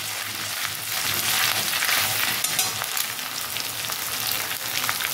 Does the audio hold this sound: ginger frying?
yes